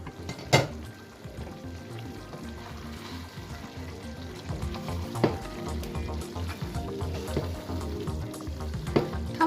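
Chicken and vegetables cooking under a lid in a pan: a steady, soft sizzle and bubbling simmer throughout, with occasional small pops and taps, close but fairly quiet.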